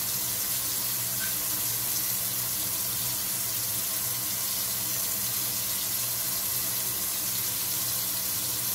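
Seitan dough is washed under a running kitchen tap, a steady, close rush of water hissing unbroken throughout with no talk.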